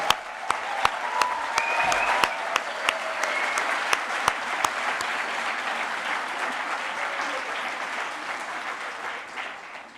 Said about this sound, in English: I would like us to applaud all mothers in this room and online